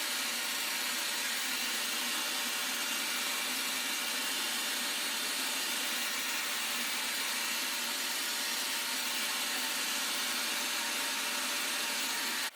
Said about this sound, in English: I had to vacuum this off right here because it is so sticky